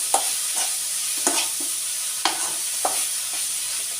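Spinach and grated coconut fry in a home-kitchen pan, giving a steady close sizzle broken by several sharp scrapes and stirs of a spoon against the pan, with no voices.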